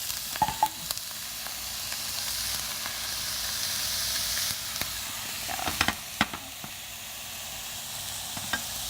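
Steady sizzling of vegetables and hijiki frying in hot oil, a continuous crackling hiss with scattered sharper pops and occasional stirring clatter.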